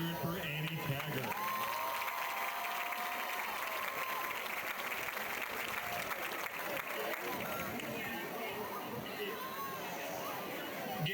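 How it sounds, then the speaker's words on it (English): A crowd at a high school football game claps and cheers steadily for a couple being announced, dense continuous applause with chatter and voices mixed in throughout. "Again, let's hear it for Annie Taggart."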